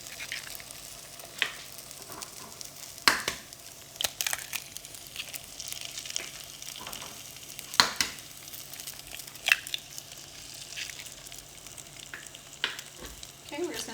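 Eggs frying and being stirred in a pan with warmed leftover cooked meat, a continuous crackling sizzle broken by repeated scraping and tapping of a spatula, close and steady for the full stretch.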